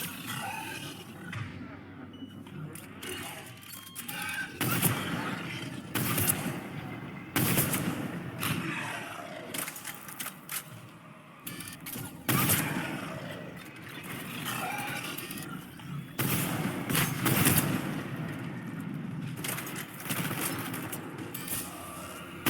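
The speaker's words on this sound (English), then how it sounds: "We're in the middle of a firefight right now." Sustained gunfire from a Mass Effect 3 firefight, with repeated loud bursts and booming shots spread across the whole stretch under a continuous rumbling battle din.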